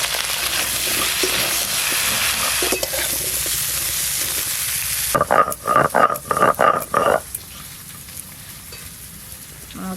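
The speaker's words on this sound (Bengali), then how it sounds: "মাছের ঝোলের জন্য কেটে ধুয়ে রাখা আলু আর পটল একসঙ্গে ভেজে নেব।" Cut potatoes and pointed gourd fry together with turmeric in hot oil, a close steady sizzle giving way to a run of rhythmic stirring scrapes and crackles before settling back.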